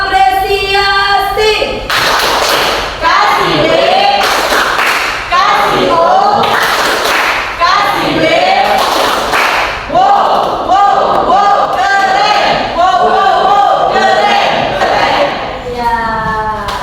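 A school class performs a rhythmic applause routine, with bursts of clapping in a patterned beat alongside chanted voices, loud and close.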